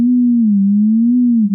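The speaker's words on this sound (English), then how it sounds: "But as a sine wave, it would be..." A steady pure sine tone standing for Saturn's motion, loud and alone, holding a low pitch that wavers gently up and down in a slow cycle.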